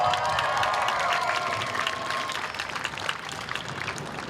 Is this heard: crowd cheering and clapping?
yes